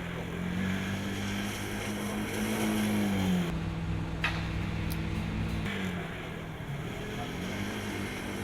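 A Formula Student race car circles a skidpad, its engine holding a continuous, loud drone whose pitch rises and dips as the driver corrects, with no break in the sound.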